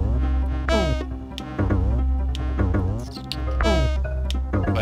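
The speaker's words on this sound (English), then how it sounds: "But you don't even have to worry about the bees when you're with Winky." Buzzing of bees in Donkey Kong Country's Gorilla Glacier world, a steady insect drone running under busy, tonal game music throughout, with no talking.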